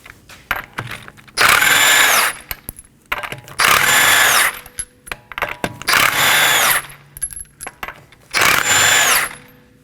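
An impact tool spins off the five 21mm lug nuts on a rear wheel of a 2018-2024 Toyota Camry, four loud separate bursts of whirring and rattling with quieter clinks and handling noise between them.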